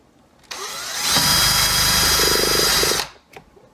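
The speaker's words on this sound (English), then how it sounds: "We're going to drill it in the center." An electric drill bores a hole through the center of a piece, its motor whining up loud and close for about two seconds before spinning down, with no talk.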